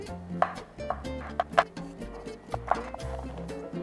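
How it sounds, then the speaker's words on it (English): A kitchen knife slices garlic finely on a board, a quick uneven series of sharp taps, close and fairly loud, with no talking. "Slice the garlic up all fine."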